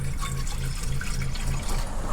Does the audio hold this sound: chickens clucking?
no